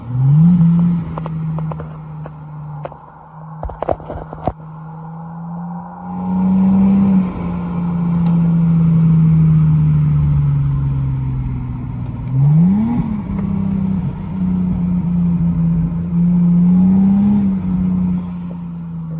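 A Lexus IS300 engine idles with a deep exhaust rumble through a Spec-D exhaust, revving up a few times in smooth swells, preceded by a few sharp clicks.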